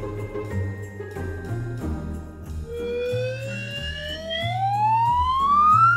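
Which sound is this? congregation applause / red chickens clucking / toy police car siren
toy police car siren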